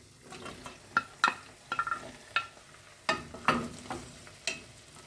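Potatoes and tomato-pepper paste with minced meat sizzle in a pan while a spoon stirs them, giving repeated sharp scraping clicks over a steady close frying hiss.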